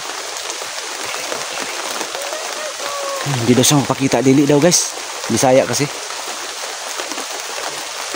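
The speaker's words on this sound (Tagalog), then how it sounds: "Ang lakas ng ulan ngayon, oh." Heavy rain pours steadily throughout as a steady close hiss while people talk over it in short bursts.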